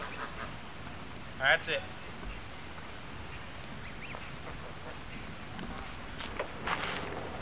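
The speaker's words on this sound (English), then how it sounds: "They're geese and they're eating turkey." Geese honk and quack while eating turkey, a couple of short faint calls early on and a few more near the end, with a person speaking briefly nearby.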